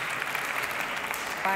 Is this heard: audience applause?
yes